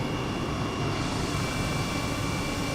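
An aircraft engine at full throttle roars continuously and loudly, a dense steady drone that fills the whole moment with no voices over it.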